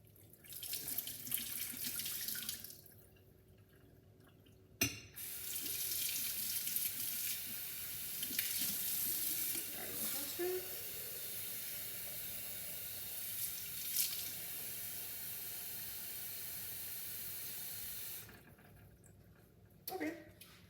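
Tap water gushes steadily into a sink while water for a flower bouquet is changed, running for about fifteen seconds with a brief break, then stopping and starting again near the end.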